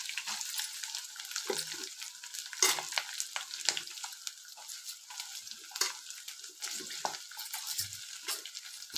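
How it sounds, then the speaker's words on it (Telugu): Green chillies and onions cooking in a pan: a quiet, close hiss of frying broken by repeated scraping and clinking strokes of a spatula at an irregular rhythm. "పచ్చిమిర్చి వేగాక ఆనియన్స్ వేయండి"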